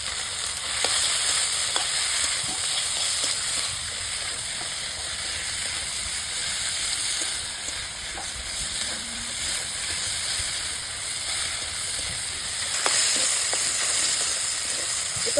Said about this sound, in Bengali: টমেটো পেঁয়াজ ভাজা ভাজা হয়ে গেলে মাংস দিয়ে দেবো।